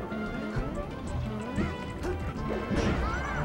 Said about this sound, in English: good wave dash down smash